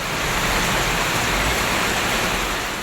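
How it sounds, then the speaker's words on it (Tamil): Heavy rain pours down in a dense, constant hiss, loud and close with no voices or breaks, in Tamil Nadu. "தேனி மாவட்டம் பெரியகுளம், தேவதானப்பட்டி, மஞ்சளார், சோத்துப்பாறை, காமாட்சிபுரம் உள்ளிட்ட பகுதிகளில் மிதமான மழை பெய்தது."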